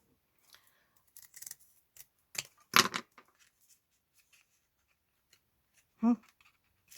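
Scissors snip through paper for a journal in a quiet room, giving a few short close cuts with a crisp longer snip in the middle and another sharp cut near the end.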